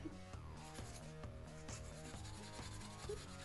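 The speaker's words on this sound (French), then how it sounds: "tu finis avec de la paille de fer" Steel wool scrubs a bicycle frame in quick, even back-and-forth strokes, producing a steady, faint, close rasping without pauses.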